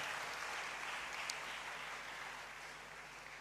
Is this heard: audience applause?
yes